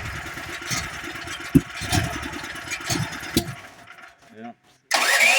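A Duromax 13000 dual fuel generator running on propane cranks with a rhythmic starter churn and uneven engine bursts, then cuts out; a voice is heard briefly before a loud roar returns at the end.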